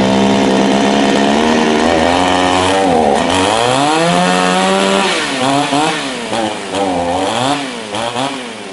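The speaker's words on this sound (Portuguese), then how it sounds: "pra testar a potência da motosserra, a gente vai cortar aqui um pedaço de madeira pra vocês verem" A chainsaw roars loudly and steadily, its engine revving up and down in repeated surges before cutting into a piece of wood.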